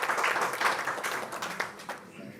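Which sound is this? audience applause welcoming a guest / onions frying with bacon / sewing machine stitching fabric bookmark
audience applause welcoming a guest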